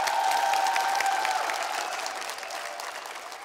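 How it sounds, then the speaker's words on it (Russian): Audience ovation for a talented singer at a vocal performance: dense, steady clapping from a large crowd, loud and close, gradually fading slightly over a few seconds, with no voices. "Не аплодисмент, а овации."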